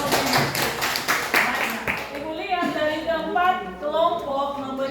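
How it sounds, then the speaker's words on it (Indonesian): A classroom group claps for a couple of seconds, a dense patter of hands that fades as a teacher's voice takes over. "Kita berikan tepuk tangan untuk organogenesis."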